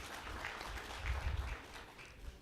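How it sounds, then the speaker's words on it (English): Quiet applause from an audience at a health tech investor summit greets a presenter, a soft diffuse patter with a low rumble in the room, no speech. "Another round of applause for Rose Mudui."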